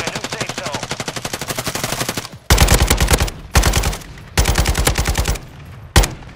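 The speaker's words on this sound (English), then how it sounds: "They're shooting somebody ahead of them." Rapid automatic gunfire from a Call of Duty match, loud and close, delivered in several sustained bursts separated by short pauses, ending with a single sharp shot.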